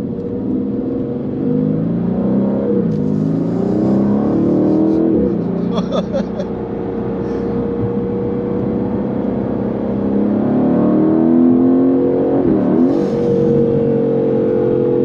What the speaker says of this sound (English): You hear the engine change, can't you?